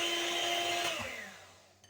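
An electric hand mixer whirs loudly as it beats eggs with sugar for an apple roll batter, holding a steady high whine before slowing and fading toward the end.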